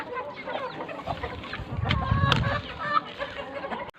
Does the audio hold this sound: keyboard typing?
no